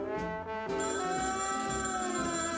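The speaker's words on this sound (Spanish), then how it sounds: "Parece que alguien me llama por el teléfono." A cartoon telephone bell rings loud and continuous, a bright sustained jangle with rich overtones that carries on without a break and without any voice over it.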